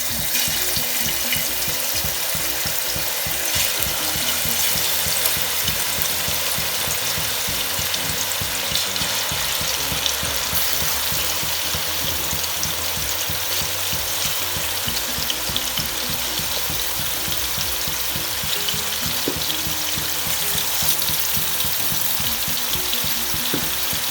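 Pieces of chicken fry in coconut oil in a heavy-bottomed uruli, making a loud, even, unbroken sizzle with fine crackle and a low bubbling pulse. It runs on steadily with no voices.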